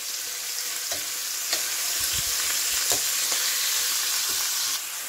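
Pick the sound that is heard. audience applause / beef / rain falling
beef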